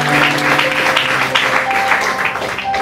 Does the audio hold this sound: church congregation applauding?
yes